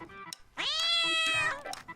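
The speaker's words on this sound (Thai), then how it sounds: "แมวน้อยน่ารักจังเลยนะเจ้าแมวโจซี่" A cartoon cat in a Minecraft animation gives one long, bright meow that swells and then trails off, with a few faint background sounds before and after.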